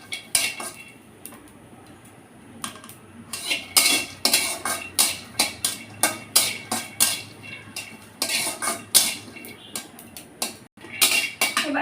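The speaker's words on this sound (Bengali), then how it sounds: "কিছুটা রসুন আমি এটা সুন্দর করে ভেজে নেব।" Garlic and chillies are dry-roasted in an oil-free pan, with a spatula scraping and clinking against metal in a fast, irregular rhythm that is loud and close.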